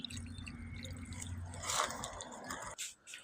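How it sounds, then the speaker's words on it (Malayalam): Water from a large monster-fish aquarium tank trickles out through a siphon pipe, faint and wet, with a brief louder gurgling splash near the middle over a low steady hum. "നമ്മൾ വലിച്ചെടുത്തപ്പോൾ വെള്ളം വരുന്നുണ്ട്."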